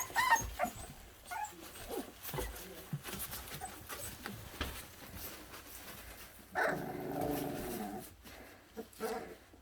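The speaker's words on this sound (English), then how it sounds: "They're very vocal, as you can hear." Puppies at play whimpering, yipping and growling in bursts, close and fairly soft, with scuffling and a longer whiny cry toward the end, under occasional quiet talk.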